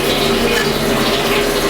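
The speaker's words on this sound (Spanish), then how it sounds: "Vamos a abrir un poco agua" Tap water runs steadily into a disinfected brewing pot while preparing a homemade IPA mash, a continuous broad rushing splash that stays loud and even throughout.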